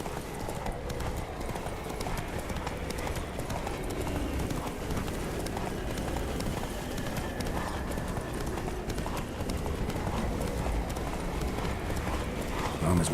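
Roach the horse gallops in The Witcher 3: Blood and Wine, hooves clip-clopping in a rapid, continuous rhythm under a steady wash of game ambience and an occasional whinny.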